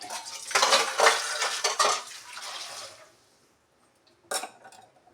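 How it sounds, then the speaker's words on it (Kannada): Boiled potatoes are mashed in a metal pan, with a few seconds of close, clattering scrapes and knocks of a utensil against the pan, a pause, then one more short scrape. "ಆಲೂ ಬೇಯಿಸಿಟ್ಕೊಂಡಿದ್ದೆ, ಅದನ್ನು ಮ್ಯಾಶ್ ಮಾಡಿ ಇದಕ್ಕೆ ಹಾಕ್ತಾಯಿದ್ದೀನಿ"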